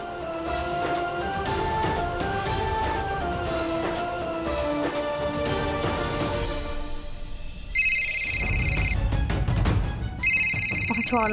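Background music plays, then an electronic phone ringtone sounds in two bursts of repeating tones near the end.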